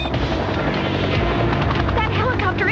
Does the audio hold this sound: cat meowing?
no